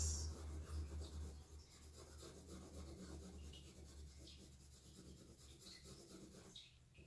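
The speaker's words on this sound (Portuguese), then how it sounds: "Faz tempo que eu não desenho a mão. Eu vou desenhar isso daqui," Pen strokes scratching and rubbing across paper as a shape is sketched by hand, a steady close scraping texture with short bursts, and no talking over it.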